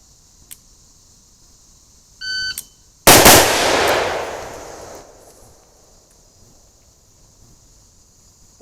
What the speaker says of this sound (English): We're going to shoot a couple pairs here.